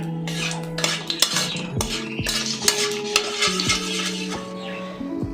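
Cumin and sugar tempering fries in hot oil for a cabbage bharta. A metal utensil clinks and scrapes steadily against the pan as it is stirred, with only a faint sizzle underneath.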